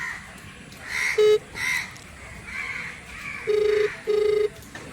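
Ringback tones of an outgoing phone call, two short beeps repeating, clear and fairly loud against quiet room noise, with brief voices in between.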